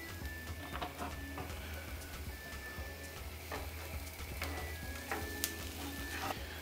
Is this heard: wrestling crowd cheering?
no